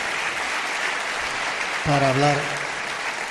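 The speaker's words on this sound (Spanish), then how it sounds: "Os pido un aplauso para Amado" Audience applause for a guest on a talk program, a continuous low-level patter of clapping throughout, with someone briefly speaking over it midway.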